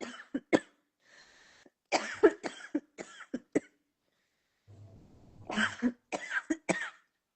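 A person coughs repeatedly in short, sharp bursts, separated by brief pauses and some quiet breathing and throat sounds.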